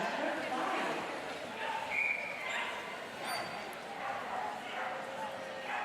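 Eager Pyrenean Shepherd (Pirshep) at an international dog agility championship, yipping and barking at its handler before a jumping run, repeated excited barks over steady crowd and arena noise.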